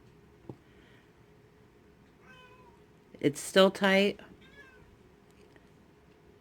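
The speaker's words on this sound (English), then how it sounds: "That's my cat meowing in the background." A pet cat meows close by, a burst of two or three drawn-out cries in quick succession partway through, against a quiet room with a few soft background noises; a person speaks briefly.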